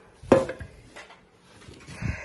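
Pots from a cookware set knock together as they are handled, one sharp metallic clank near the start followed by softer scattered clinks and bumps, close by and with no talking.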